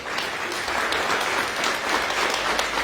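A congregation claps continuously in a church service after a sermon, a full, even wash of applause with no voices above it.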